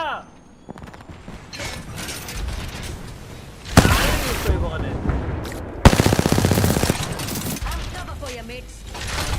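Automatic weapon fire in Apex Legends rattles in two loud, close bursts of rapid shots, separated by quieter stretches of game ambience, movement sounds and distant pops.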